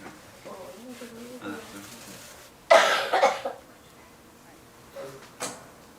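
Soft speech gives way to a loud, harsh burst of coughing from a woman with a cold, two or three rough coughs close together, followed by quieter sounds.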